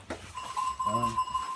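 A ewe and her lamb in a farm setting, with one clear sustained bleat near the middle rising over faint background noise and brief rustling, close and moderately loud.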